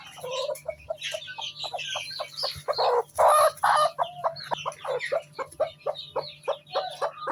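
A hen clucks repeatedly in a rapid, close rhythm beside newly hatched chicks, with a brief louder squawking burst midway; steady low hum underneath and no talking.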